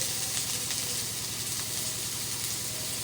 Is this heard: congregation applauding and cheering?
no